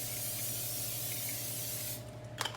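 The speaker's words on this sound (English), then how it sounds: "So I'm gonna go ahead and spray" Pam cooking spray hisses steadily onto a pan for about two seconds, a close, continuous aerosol spray under a faint kitchen hum, then cuts off with a few small clicks.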